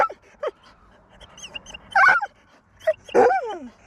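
A dog on a river walk whimpers and yips in short, high, wavering cries, a few sharp yelps breaking through near the microphone between quieter whines, with no talk.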